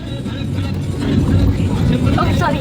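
A car on the road, heard from inside the cabin: a steady, loud low rumble with road noise that swells slightly midway, while faint voices sit under it.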